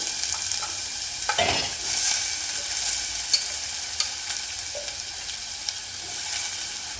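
Small diced potatoes, three medium ones, sizzle and fry in a pan while being stirred, with a steady hiss and occasional scraping clinks of the spoon; no talking.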